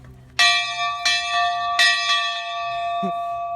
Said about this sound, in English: we have one of the original train bells